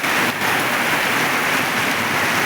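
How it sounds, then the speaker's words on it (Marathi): Dense, steady downpour of heavy rain drumming on a surface, loud and continuous with no voices. "किती पाऊस आहे"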